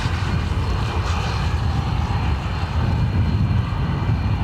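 A steady, heavy engine roar from an Airbus A330 jet at Dublin Airport on a wet, windy day, loud and unbroken for the few seconds with no voices over it.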